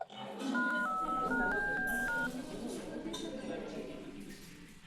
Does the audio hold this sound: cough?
no